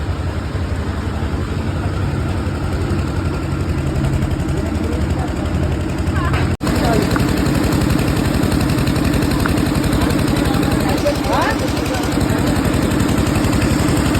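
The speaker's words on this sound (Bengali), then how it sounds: "জেনারেটার চলছে" A generator runs steadily at a rain-soaked wedding venue, a continuous loud mechanical drone with an even rhythm throughout, briefly cut by one short dropout midway before resuming.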